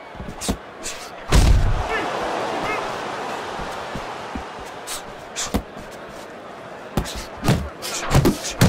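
Punches landing in the boxing video game Fight Night Champions, several sharp loud thuds scattered irregularly, one heavy blow early and a cluster of quicker impacts near the end, over low arena noise and commentary.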